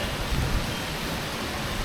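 Heavy rain pours down steadily on the Rajshahi University campus, a dense, even hiss that stays close and loud, with no other sounds or voices over it.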